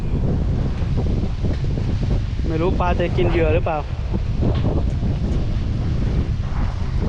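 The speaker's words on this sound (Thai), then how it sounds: "แต่วันนี้ลมแรงมาก" Strong wind gusting across a reservoir at a camping and fishing spot, a steady broadband roar buffeting the microphone throughout, with someone talking briefly in the middle.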